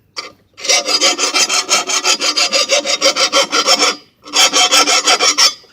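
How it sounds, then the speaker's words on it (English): A hand file sharpening a lawnmower blade, close and loud rhythmic rasping strokes in a fast steady series, pausing briefly before another burst of strokes. "I always like to file the backside just so it looks like someone did something."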